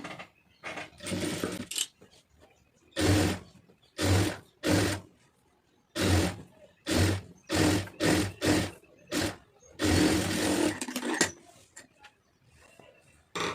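A sewing machine stitches a blouse seam in short stop-start bursts of whirring needle action, a dozen or so separate runs of varying length separated by brief pauses, close and moderately loud.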